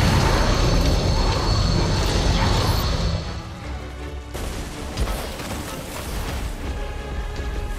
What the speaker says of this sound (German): Explosionen immer mehr.